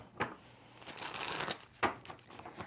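A tarot deck being shuffled by hand, close and fairly quiet: two distinct riffling passes, each opening with a sharp snap and followed by a papery flutter of cards.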